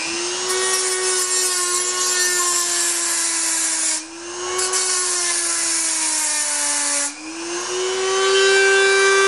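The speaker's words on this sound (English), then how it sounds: "you're going to want to file down any of the sharp edges and whatnot and try to make it a nice flush cut" A metal file works steadily across the sharp edges of a cut part for a charging handle, producing a continuous close, grinding rasp with two brief pauses as the stroke resets.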